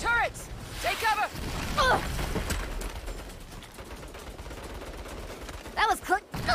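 Turret gunfire in the Saints Row video game, bursts of rapid shots alongside a loud voice shouting, with more shouting near the end.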